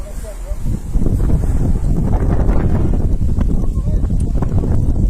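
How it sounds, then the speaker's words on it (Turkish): Strong wind gusting close to a microphone beside a wildfire, a steady loud roar and buffeting throughout with voices talking underneath. "Rüzgar yön değiştirdi. Şimdi bize doğru esiyor."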